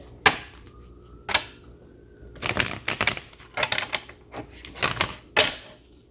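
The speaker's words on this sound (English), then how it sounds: "One more shuffle, please." A deck of cards is shuffled close up, with sharp riffling bursts and slaps coming in quick irregular clusters, loud and crisp against a quiet background.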